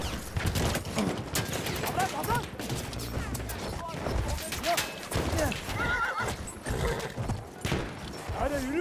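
Battlefield 1 horse neighs and whinnies over clip-clopping hooves, with bursts of gunfire and a busy, cluttered battle mix.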